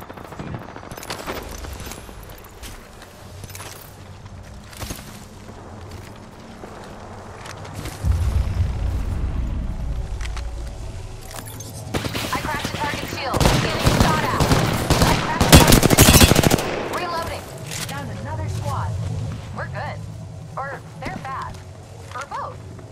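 Bursts of rapid automatic gunfire rattle through a squad battle royale video game match, building to a loud sustained volley in the middle, with quieter intermittent shots and game effects around it.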